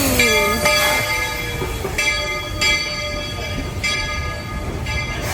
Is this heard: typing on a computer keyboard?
no